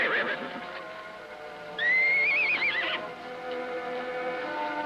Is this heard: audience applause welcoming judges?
no